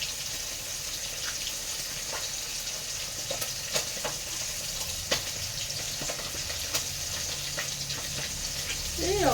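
Butter sizzles in a hot pan as a steady, close frying hiss with scattered small pops and crackles, while someone speaks softly over it.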